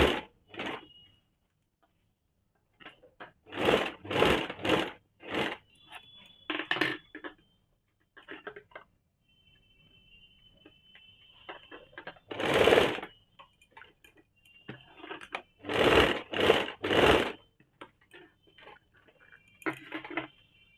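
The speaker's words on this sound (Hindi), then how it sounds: "मैं इसे चारों तरफ से पहले सिल लेती हूँ।" Sewing machine stitching around a piece of fabric for a kaftan nightie, with several short bursts of close, loud whirring and pauses in between, plus light ticks and handling clicks.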